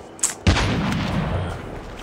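Close, booming gunshot in an online shooter game: a short sharp crack followed by a heavier blast with a long rolling echo that tails off slowly, with no voices over it.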